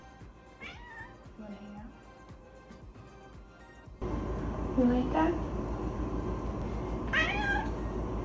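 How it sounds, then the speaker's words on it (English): A pet cat meows several times, close and clear, with a person speaking softly between the calls and a louder background hum rising partway through. "Are you meowing?"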